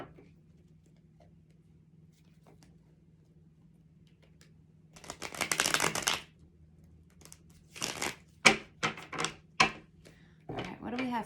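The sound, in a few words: shuffling a Rider-Waite tarot card deck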